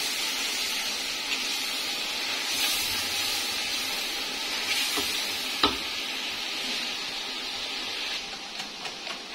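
A spoon stirs a kadhi mixture in a pot, a continuous bright frying hiss with occasional scraping knocks and a sharper clink midway, close up with no voices.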